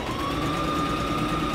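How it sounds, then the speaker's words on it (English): A sewing machine runs steadily while understitching a garment, about an eighth of an inch from the seam line, giving a continuous, even mechanical whir with a high motor whine, close and alone. "We're gonna sew about 1/8 of an inch away from that seam line the entire length of what"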